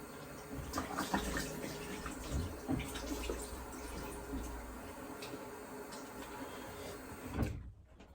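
Water runs from a tap for a quick rinse, a steady hiss with some knocks and clatter of handling, ending abruptly near the close.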